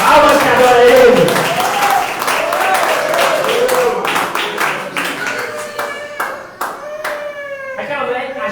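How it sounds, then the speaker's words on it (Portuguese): A church congregation claps together during a sermon break, the dense applause loud and close, mixed with raised voices and cheering that gradually thin out toward the end. "Palmas que adora ele."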